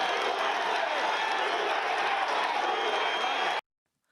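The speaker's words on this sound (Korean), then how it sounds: "지지자들은 환호했습니다." Supporters at a Trump rally cheer and applaud continuously, a thick roar of clapping, shouting and whoops that holds steady at full level, then cuts off abruptly into silence.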